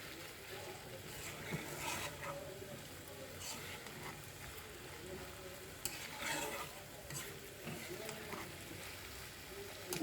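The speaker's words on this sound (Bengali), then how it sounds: "এই আলুটা বটের সাথে ভাজবো।" Potatoes fry with beef tripe in a pan, a soft, steady sizzle with occasional stirring scrapes, fairly faint and close.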